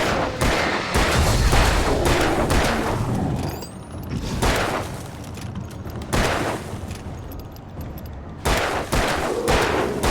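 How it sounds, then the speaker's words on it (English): Revolver gunfire in the video game Alan Wake: repeated loud shots in bursts with brief gaps, over a dense game soundscape with no talking. "Shoot the revolver."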